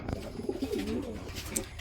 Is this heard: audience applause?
no